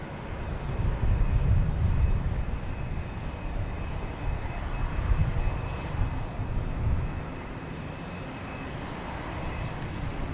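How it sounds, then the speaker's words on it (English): Distant Air France airliner coming in to land at Boston Logan Airport, a broad steady jet roar that swells and eases over about ten seconds, heard outdoors with no voices. "we have Air France coming in on the left and American Airlines coming in from the right"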